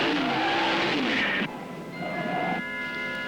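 Car roaring loudly through a movie trailer, engine whine rising and falling with screeching, sliding tones and an abrupt cut midway, dense and close with no talk.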